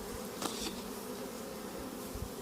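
Honey bees buzz steadily around beehives at an apiary during rapeseed bloom, a continuous low drone close by and moderately loud with no talking.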